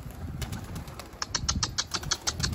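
A bird takes off and flies away, its wings flapping in a quick rapid series of soft beats, fairly close with no talk over it.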